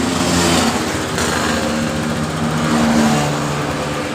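Honda BeAT scooter engine running close by, a steady, buzzing small-engine drone at idle with slight swells in speed, no voices over it.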